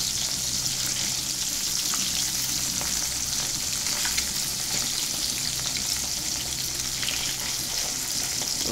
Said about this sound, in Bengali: হালকা ভাজা দিব, হালকা ভাজা দিয়ে ডাটা দিয়ে রান্না করব।